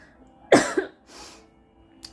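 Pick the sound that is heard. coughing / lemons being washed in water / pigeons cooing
coughing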